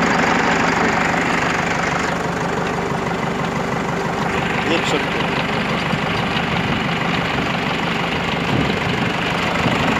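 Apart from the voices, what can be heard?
Preet tractor engine running after crown fitting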